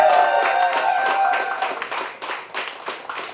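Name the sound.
audience whooping, cheering and applause for comedian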